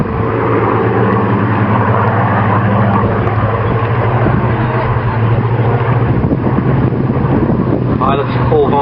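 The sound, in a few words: Hawker Hurricane and Supermarine Spitfire aircraft flying at air show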